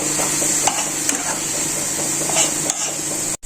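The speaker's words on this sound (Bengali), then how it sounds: "পোস্তটাকে ভালো করে ভেজে নেবো তেলে" Steady sizzling of poppy seeds frying in hot oil, with a few light scraping stirs, continuous and close, with no talking.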